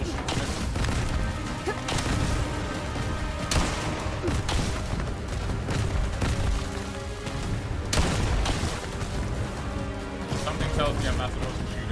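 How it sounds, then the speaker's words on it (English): Missile-firing pistol shots in the Bright Memory video game, heavy booming blasts and crashes repeating through a dense, loud game mix with a voice talking over it. "Even though this pistol shoots missiles."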